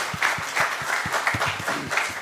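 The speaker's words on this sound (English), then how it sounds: "a big round applause for all TB champions" Audience applause for tuberculosis champions at a university health-sciences event, a short burst of scattered, rhythmic claps from a modest crowd, fairly close and clear.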